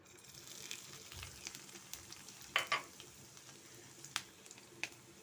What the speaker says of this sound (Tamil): நம்ம ஒரு தாளிப்பு கொடுத்துடலாம்